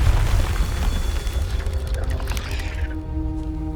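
A Confringo blast spell explodes in the video game Hogwarts Legacy: a loud, close boom with a rumbling low end that fades into a ringing, tonal decay over a few seconds.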